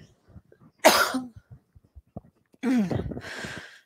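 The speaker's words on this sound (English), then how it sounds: "after I clear my throat" A sharp throat clearing bursts out, followed after a pause by a second, rougher throat clearing with some voiced rasp.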